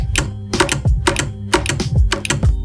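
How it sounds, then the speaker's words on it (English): A magnetic gear shifter on a DIY sim racing rig snaps through shifts, giving sharp, close mechanical clicks in quick pairs repeated several times with a heavy thud beneath each. "It's a little bit harder to pull, but when it pulls, it clicks really fast."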